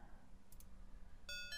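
Telephone dialing tones in the video game Der Planer when calling a truck dealer, a couple of faint clicks followed by a short run of quick electronic dial beeps, quiet and alone.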